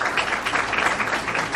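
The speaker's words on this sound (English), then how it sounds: "let's give LA 84 Foundation a round of applause for hosting us as well" Audience applause at a gubernatorial forum on higher education, a dense, even roar of clapping from a crowd, sustained and fairly loud.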